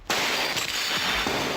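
A glass window shatters with a sudden crash, followed by a bright spray of tinkling and crunching shards over the next moment, loud and close, with no voices.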